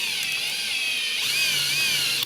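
Power drill run in reverse with an Allen hex bit driving out a hex screw, a steady high-pitched motor whine with slight wavering in pitch, close and continuous, ending abruptly.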